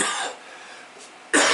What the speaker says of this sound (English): the cough is killing me